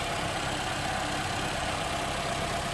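A 2015 Toyota Camry's 2.4-liter four-cylinder engine idles with the hood open, a steady, even hum and whir heard up close with no voices.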